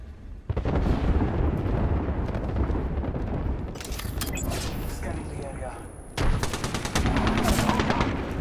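Loud, dense gunfire and booming blasts from the Peacekeeper shotgun and an incoming artillery strike in the video game Apex Legends, continuous and close with bursts of explosions, while players talk over the action.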